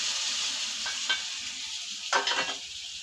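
Quail eggs being stirred into masala frying in oil, with a continuous close sizzle and two or three brief scraping strokes of a spoon against the pan.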